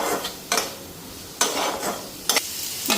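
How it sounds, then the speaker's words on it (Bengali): Chicken frying with soy and tomato sauce, turmeric and salt, a low continuous sizzle broken by four or five sharp scraping stirs of a spatula against the pan, close up. "ভালো করে এখন ফ্রাই করে নিই।"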